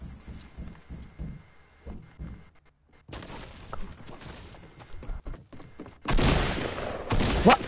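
Video game gunfire in a fast multiplayer match: scattered shots early, then loud, dense bursts of rapid fire near the end.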